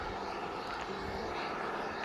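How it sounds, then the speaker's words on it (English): An RC model airplane engine at an RC flying field in Ireland runs with a loud, steady buzzing roar that stays constant throughout, heard from a short distance. "We have a plane starting over there. That thing is loud,"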